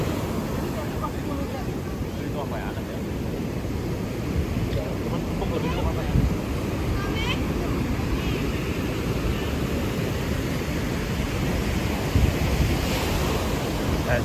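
Surf rolls in steadily at Kuta Beach in Bali, with wind roaring across the microphone in a dense, continuous wash that stays loud from start to finish, while faint voices of beachgoers blend into the background.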